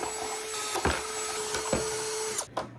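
A drill boring holes into the stock plastic air intake of a BMW G20: a continuous high whine fills the clip, with a few brief bumps as the bit punches through, then it spins down near the end.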